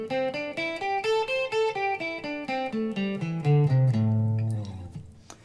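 A guitar plays the sixth pentatonic scale form note by note, climbing and then descending in even steps, ending on a ringing low note that fades out.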